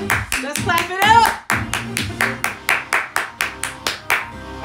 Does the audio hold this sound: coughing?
no